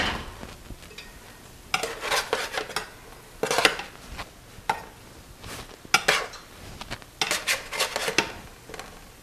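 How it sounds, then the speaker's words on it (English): Baked meatballs flipped in a pan, with repeated metal utensil scrapes and clinks against the pan in irregular bursts, close by over a faint sizzle. "so now I'm going to take my meatballs out and flip them"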